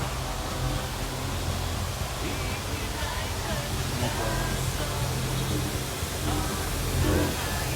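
Waterfall at Talofofo, Guam, a steady broadband rush of falling water that fills the whole clip at an even, close level, with no talk over it.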